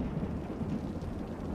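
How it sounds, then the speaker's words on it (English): Thunder from a lightning strike in Cities: Skylines is a low, dense rumble that holds steady and loud for a moment with no voices. "Damn, that was one hell of a lightning strike."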